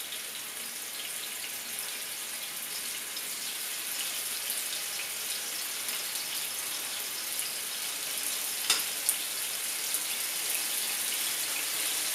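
Beef frying in a pan at medium to high heat in a little oil for Szechuan beef, a steady broad hiss of sizzling that holds evenly throughout with a couple of brief sharp pops near the end.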